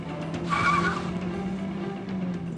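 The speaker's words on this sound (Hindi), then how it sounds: "गाड़ी इतनी तेज क्यों चला रहे हो?" A car speeding along a road lets out a sharp, loud tire squeal as it skids, over a steady engine drone that continues after the screech fades.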